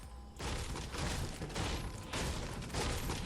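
Gunfire in the video game Fortnite, a burst of rapid shots that starts abruptly after a brief quiet moment and continues in dense, uneven volleys at moderate loudness.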